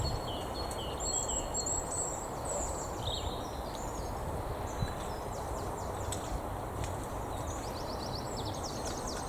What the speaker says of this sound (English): Listen to the birds today